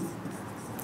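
Brief, quiet scratching of writing on a board during a maths lesson, a soft continuous stroke lasting under a second with no voices over it.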